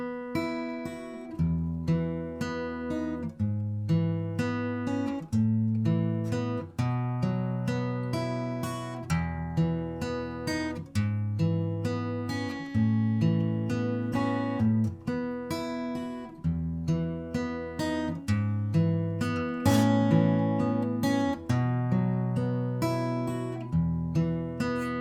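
The intro of a song is played on guitar as a steady fingerpicked pattern. Bright ringing arpeggios run over moving bass notes for about twenty-five seconds, with no talking.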